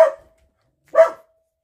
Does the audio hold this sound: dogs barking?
yes